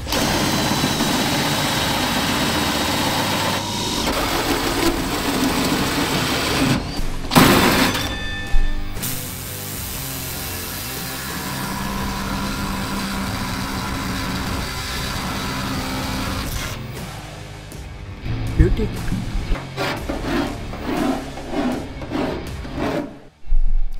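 A power drill grinds and whines through metal in long stretches, drilling exhaust holes in a turbo tank on a ZB Fairlane, pausing briefly, with rasping bursts and a motor hum throughout.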